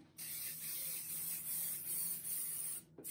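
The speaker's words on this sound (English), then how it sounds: "We're going to begin to spray." Quilt basting spray hisses onto fabric hung on a wall, a close, steady aerosol spray lasting about three seconds before cutting off abruptly.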